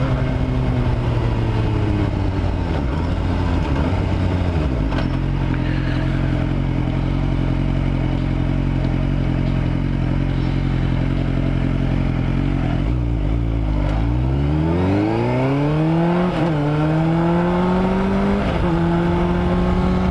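A motorcycle engine drones at steady cruising revs during a night ride, then dips and rises sharply as the rider accelerates through the gears, loud and close with wind rumble throughout.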